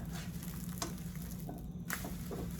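Eggs set in a pan on the stove at home. A soft, steady sizzle with a few light scraping ticks runs briefly, and no one speaks.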